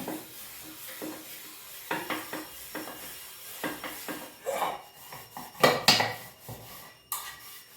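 An old metal tea-making pot is handled in a home kitchen, giving a run of close, light clinks and scrapes that build into a few louder clattering knocks near the end.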